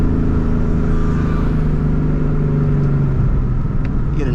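A 2014 Ford Mustang GT engine revs hard and close, a loud, continuous throaty roar rising and swelling throughout, with no voices over it.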